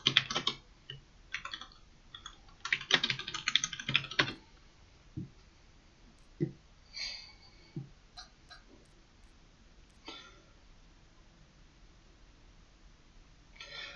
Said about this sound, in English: This is actually my quieter keyboard.